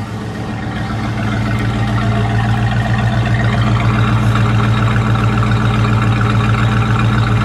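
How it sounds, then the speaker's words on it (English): A 1969 Mercury Cougar XR7 with a 428 Cobra Jet V8 runs steadily and loudly up close, its deep exhaust rumble holding constant with a slight lift in revs partway through. "Give me a little rev, John."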